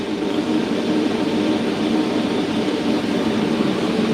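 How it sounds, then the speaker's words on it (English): A knife-making grinder fitted with a disc grinder attachment runs steadily in a blacksmith shop, giving a loud continuous broadband whir with no breaks and no talk. "Yeah, so the grinder lives."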